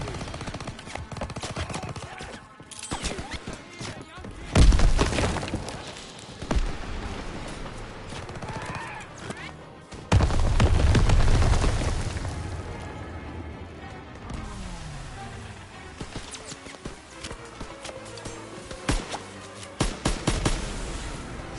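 Call of Duty WWII battle noise: heavy grenade blasts with long rumbling booms, one around the middle lasting a couple of seconds, mixed with rattling machine-gun bursts and scattered gunshots throughout, loud and close.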